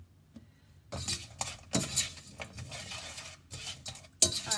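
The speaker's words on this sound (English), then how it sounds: "We want to stir that up so it's all mixed." A spoon stirring keto chia seed jam in a pot: irregular scraping strokes and light metallic clinks against the pan, fairly close and quiet, with brief pauses between bursts of stirring.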